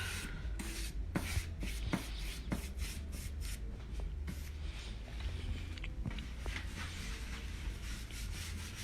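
A cloth rubs across a scratched wooden furniture surface in big swirling cleaning strokes, a soft steady scrubbing close by with faint light taps, no voices.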